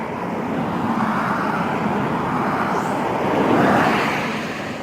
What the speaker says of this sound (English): Sorry about the cars.